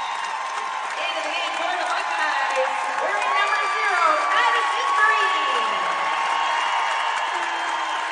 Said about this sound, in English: All the Buckeye fans up on their feet cheering for Madison Green